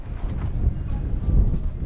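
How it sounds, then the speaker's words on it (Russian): Strong wind buffeting the microphone beside a greenhouse, a continuous low rumbling roar with gusty surges and no voices. "Ветер довольно сильный"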